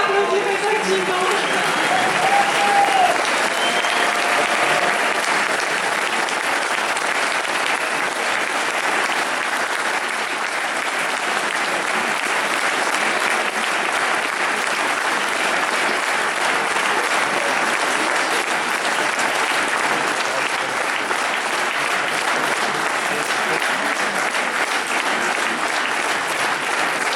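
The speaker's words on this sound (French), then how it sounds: "On peut s'applaudir effectivement" Large crowd applauding at the opening rally of a politician's European election campaign in a packed hall, loud, dense clapping sustained steadily throughout, with a voice briefly heard near the start.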